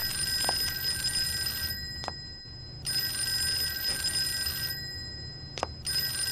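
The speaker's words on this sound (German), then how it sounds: "Wie oft hat das Telefon geklingelt?" A telephone rings in the horror video game Fork Road, two long trilling bursts separated by a short silent gap, loud and close, with brief clicks between rings.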